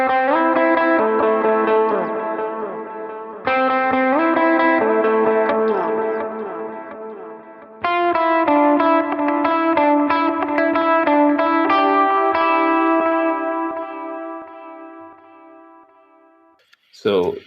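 An electric guitar plays through a Valeton GP200 multi-effects patch, strummed chords ringing with heavy processing and sustain, phrases restarting several times and a final tail fading out near the end.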